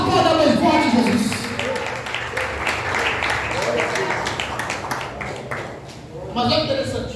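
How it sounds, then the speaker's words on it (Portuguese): A church congregation at a prophetic seminar claps and applauds loudly in a sustained burst while a preacher's amplified voice keeps talking over it. "Se você quer isso, aplauda bem forte, Jesus."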